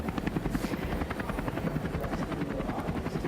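A helicopter's rotor thumps steadily and loudly in a fast, even rhythm, with no talking over it.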